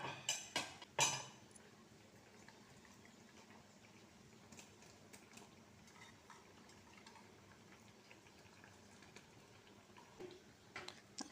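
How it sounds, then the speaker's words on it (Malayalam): Raw prawns tip into a pan of simmering Kerala theeyal gravy and get stirred, with a few sharp clinks and knocks at the start before settling into a faint, steady bubbling with occasional soft ticks. "നമുക്കിതിലേക്ക് ചെമ്മീൻ ആഡ് ചെയ്ത് കൊടുക്കാം."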